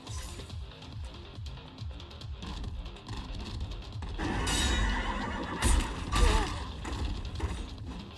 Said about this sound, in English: And the horse enemy!